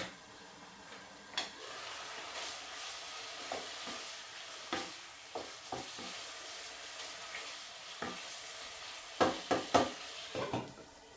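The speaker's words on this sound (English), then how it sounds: "Just let that meat seal." Thin strips of lamb and beef searing in a pan for a curry, a quiet background sizzle broken by sharp scraping and tapping of a utensil against the pan at irregular intervals.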